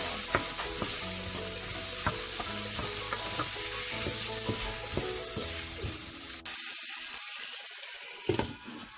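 Diced tomatoes and keema mince fry in a pan with a steady broadband sizzle, punctuated by regular clinks and scrapes of a spoon stirring, until the frying noise abruptly thins out near the end.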